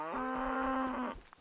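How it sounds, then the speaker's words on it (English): A single cow moos in the video game Kingdom Come: Deliverance, one long, steady low call lasting about a second, close and clear with no speech. "Oh no, that cow's still alive."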